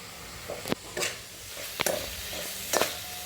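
Whole spices frying in oil for village-style egg biryani, a soft sizzle broken by several sharp scraping stirs of a spoon in the pan, close and intermittent.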